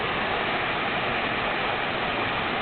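A waterfall pours into a creek that has carved a sheer canyon through bedrock, a dense, steady roar of falling water heard close and loud without pause or voices.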